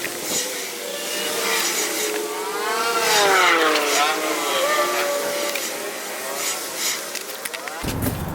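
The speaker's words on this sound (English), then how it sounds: "now essentially I'm just going to screw that on and then trim it up" A power drill drives screws to fasten a new deck piece onto a boat, its loud, close motor whine rising and falling in pitch as it works under load.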